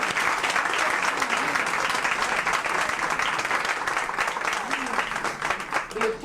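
Sustained audience applause at a wearable art show in an art gallery, dense steady clapping holding loud and even throughout without a break.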